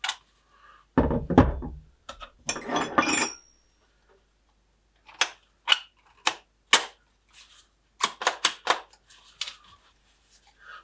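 A WAKYME cordless hammer drill fitted with a chisel bit strikes in short, sharp bursts of rapid knocking, close and loud, separated by quiet gaps.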